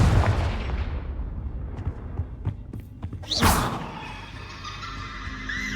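Confringo spell casting in the Hogwarts Legacy video game: a fading rumble, scattered sharp thuds, then a bright whooshing burst and a sizzling, ringing tail that lingers moderately loud.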